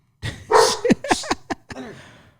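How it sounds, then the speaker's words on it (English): Several dogs bark in a quick, loud burst of overlapping barks close by during a casual board game show recorded indoors. "Can you shut your dogs up?"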